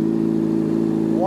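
Motorcycle fitted with a Toce full exhaust holding a high, loud rev, a steady buzzing drone that lifts in pitch at the very end.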